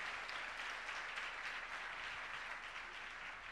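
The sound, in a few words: church congregation applause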